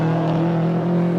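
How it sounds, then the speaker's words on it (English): A very old red Porsche climbs a hill climb stage at Mt Lofty, its engine a loud, steady droning hum held near and continuous throughout. "very, very old Porsche heading up the hill"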